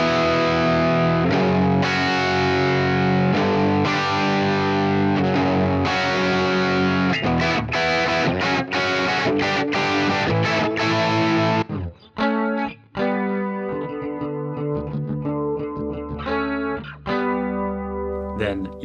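Electric guitar on the bridge pickup through a Fractal FM3 with a neutral boost at 12 dB, playing the song's part: loud, dense effected chords, then sparser single notes ringing out.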